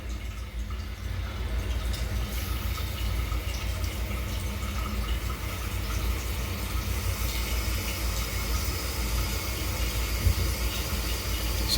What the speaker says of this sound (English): Now the tank is filling.